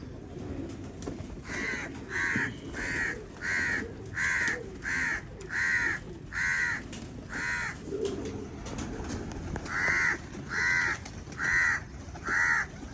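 Crows caw on a rooftop where pigeons are kept, giving a long run of about fifteen harsh, evenly spaced calls, fairly loud and near, over a background hum with no talking.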